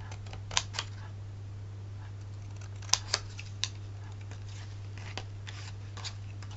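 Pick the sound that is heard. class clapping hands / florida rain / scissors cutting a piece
scissors cutting a piece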